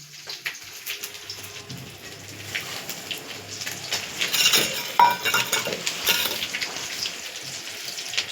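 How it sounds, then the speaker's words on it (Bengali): Potatoes frying in a pan for a fish curry, giving a steady crackling, spattering sizzle that grows somewhat louder and denser midway, heard close and alone. "এটা আমাদের আলু ভাজা হচ্ছে মাছের তরকারি দেওয়ার জন্য"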